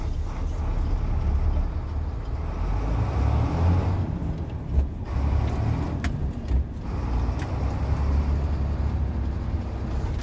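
A Sino truck's 10-speed engine runs steadily through gear changes, a loud close rumble that rises and dips as it shifts, with no talk over it.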